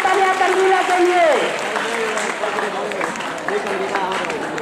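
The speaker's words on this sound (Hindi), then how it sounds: "अभी स्टूडेंट जोरदार तालियां तंजीला के लिए।" Someone speaks loudly over a microphone at a prize distribution ceremony for a general knowledge competition while a crowd claps in a dense, steady patter of applause continuing behind him.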